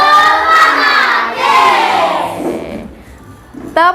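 A school class loudly chants the rhythmic Tepuk Kargil clap together, voices rising and falling in unison, with a burst of sharp clapping near the end.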